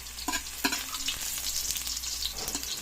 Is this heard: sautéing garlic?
yes